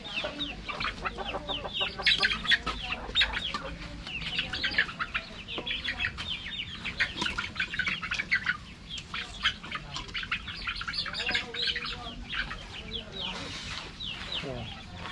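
Small chickens cluck and peep busily inside a coop on a mini farm, a dense, fairly faint chorus of overlapping calls that runs throughout, with some talking mixed in.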